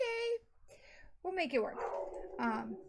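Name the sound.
dog barking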